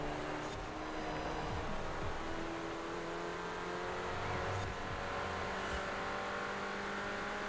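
A racing car engine in Forza Horizon 4 drones and revs steadily throughout, with shifting pitch as the throttle is eased during an oversteering slide.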